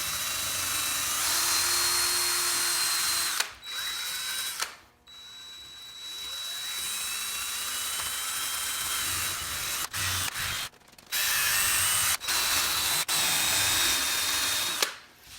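A DeWalt Max hand drill whirs in repeated loud bursts against a wheel rim being reconditioned, with brief pauses between runs and a grinding, ratcheting edge to the sound.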